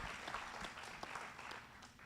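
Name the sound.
audience applause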